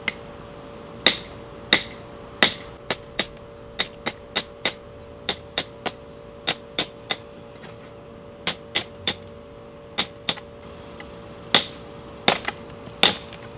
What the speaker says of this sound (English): Now I'm getting some really good chips from the brick.